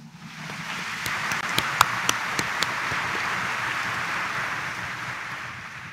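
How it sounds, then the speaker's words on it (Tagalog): A church congregation at a Quiapo Church Mass claps louder, a dense, even wash of applause that swells and holds for several seconds, with a few sharper claps standing out early on. "pumalakpak ng mas malakas"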